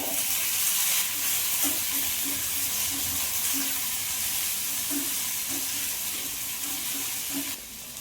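Finely chopped onions fry with panch phoron in a pan, giving a steady, close sizzle and hiss that runs unbroken with no voices.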